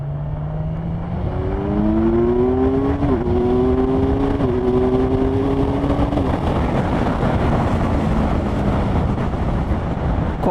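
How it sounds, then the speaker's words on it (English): A 2020 Kawasaki Ninja 1000SX rides at speed with steady engine drone and wind roar, its engine note stepping through shifts, including a downshift on closed throttle. "I just went down on a closed throttle and it did change down gear"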